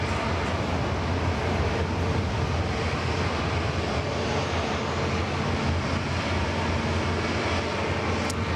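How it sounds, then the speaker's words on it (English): A Cathay Pacific airliner taxis onto Bay 8 at Sydney Airport. Its jet engines give off a steady, unbroken broadband roar that fills the whole stretch at an even level. "We'll enjoy Cathay taxiing onto Bay 8 just for a little while"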